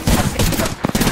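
Gunfire in a shooter game, loud close bursts of rapid shots in quick clusters with brief gaps between them.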